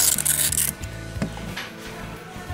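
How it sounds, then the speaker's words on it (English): Knife blade rubbed along a coarse Work Sharp diamond plate, giving a few short, close scraping strokes with a dry rasping texture and pauses between passes. "that's fairly abrasive diamond plate"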